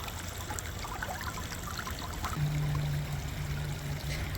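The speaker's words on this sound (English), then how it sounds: "But I do find the sound of water so relaxing, almost meditative." Garden water feature trickling gently, a soft continuous splash and dribble heard close but quiet, with a faint low hum joining partway through.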